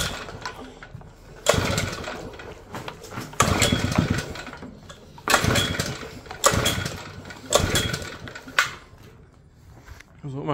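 A Hitachi ZV65R trench leg compactor bought broken runs its engine in repeated loud, surging bursts, each rising sharply then dropping back, with rough mechanical rattle between surges.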